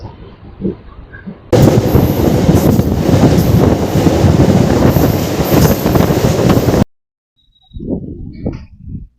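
A Bankura–Masagram MEMU passenger train rumbles past loudly and close for several seconds, with rattling wagons and wind buffeting, then cuts off abruptly into quiet.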